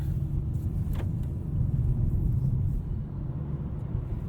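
A 2020 Nissan Sentra SR driving, heard from inside the cabin: a steady low engine and road rumble that swells slightly midway and stays even, with no talking.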